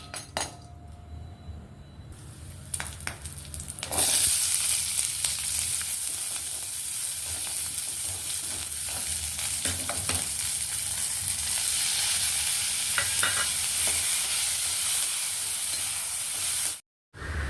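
Onion, chana dal and a single chili sauté in an oil-filled pan for a chutney, giving a steady close sizzle and frying hiss that jumps louder after a few seconds, with occasional light stirring clinks and no talk.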